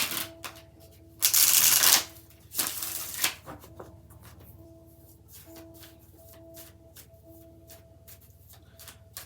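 A deck of tarot cards is shuffled by hand, with two loud riffling bursts followed by a run of lighter, rhythmic card taps and flicks close by.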